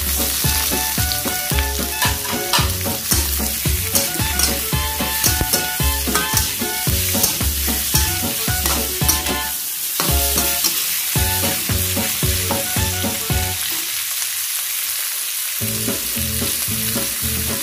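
Wood ear mushrooms stir-fried in a pan for a vegetarian dish with carrot, giving a steady loud sizzle with repeated scraping and tossing strokes, briefly dropping out near the end before the frying resumes.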